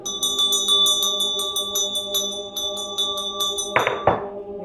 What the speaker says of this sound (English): With the ringing of this bell, we lift the veil twixt heaven and hell